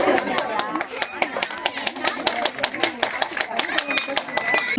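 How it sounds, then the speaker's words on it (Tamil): An audience claps at a Chithra Pournami celebration with steady, brisk, fairly close applause that runs all the way through, mixed with background crowd noise. "எல்லோரும் கைதட்டுங்கள்"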